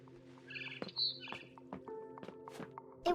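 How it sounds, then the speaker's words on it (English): A barn swallow in the video game What Remains of Edith Finch gives a handful of bright, separate chirps, close and clear against quiet surroundings, with a few soft knocks between them. "Then I heard chirping outside my window."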